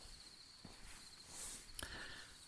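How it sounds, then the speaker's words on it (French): Crickets chirp steadily at a distance in a quiet night setting, a faint, continuous high trill with a brief soft knock partway through. "le son des grillons"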